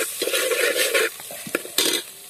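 Spices frying in hot oil in a heated pot, a loud sizzle at first that fades as a spoon stirs them, with a few sharp clinks of metal against the pot.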